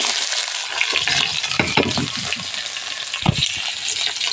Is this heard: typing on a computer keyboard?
no